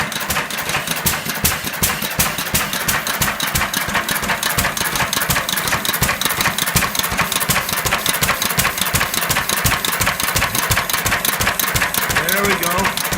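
A 1926 International Harvester Model M 6 hp hit-and-miss engine runs steadily and loud, its rapid even exhaust beats and mechanical clatter continuing without pause throughout.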